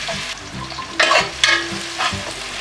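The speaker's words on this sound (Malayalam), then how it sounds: "സവാള ഇട്ട് കൊടുക്കാം." Onions sizzle in hot ghee in a pan while a spoon scrapes and stirs them, the frying steady underneath and a few louder stir strokes standing out; no one speaks.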